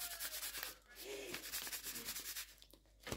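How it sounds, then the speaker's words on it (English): A DVD disc rubbed and scratched against a towel gives close, steady scraping strokes with a rough, gritty texture, repeating through the short stretch with no talking. "Yes, the disc is getting some more scratches."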